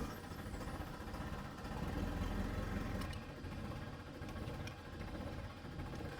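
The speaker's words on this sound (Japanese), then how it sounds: "エンジンかけて" Engine of a small fishing boat used for geta (sole) net fishing, started and running at a steady idle, a loud continuous low rumble alone with no talk.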